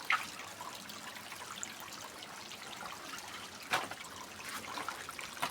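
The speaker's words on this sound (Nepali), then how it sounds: "यहाँ हेर्नुहोस् ल, यस्तो चट्टानबाट पानी आउँछ" Water trickles steadily from a rock face outdoors, a soft continuous dribble and splash with one brief louder gush, faint and close with no talking.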